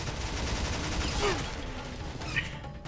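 Gunfire in the shooter video game Bulletstorm, a loud dense clatter of shots layered over game effects and a rising whoosh, continuous through the short stretch.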